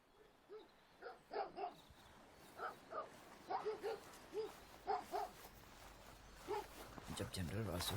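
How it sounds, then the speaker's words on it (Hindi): Dogs barking as a sound effect in a dramatic audio story, a run of sharp, fairly close barks in an irregular rhythm, ending in a louder rush of noise. "उसे कुत्तों की आवाज सुनाई दी।"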